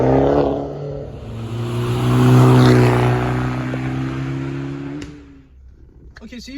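An Abarth 500 engine drones close and loud in a steady rising and falling rev, swelling to a peak before easing off and cutting out near the end.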